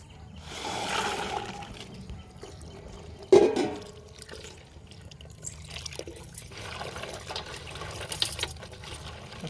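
Peanuts covered in red soil are washed in water, giving soft sloshing and trickling with one sharper splash or knock partway through. No one speaks.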